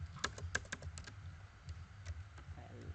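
Quiet typing on a laptop keyboard, with a quick burst of light keystrokes up close followed by a few scattered taps, recorded faintly with no voices.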